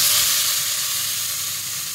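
Water hits a hot pan of lightly fried ingredients with turmeric, bursting into a loud, dense hiss of sizzle and steam that stays strong and slowly eases over two seconds, close and without voices.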